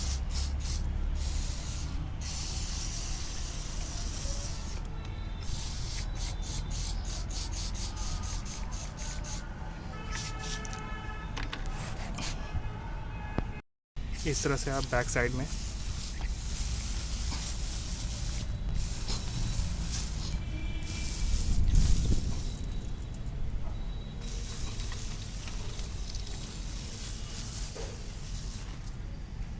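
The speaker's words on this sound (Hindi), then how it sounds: "इस तरह से आप स्प्रे करें।" Pesticide (malathion or imidacloprid) sprayed onto a rose plant by hand sprayer: repeated close hissing bursts with short pauses, and someone briefly talks over it.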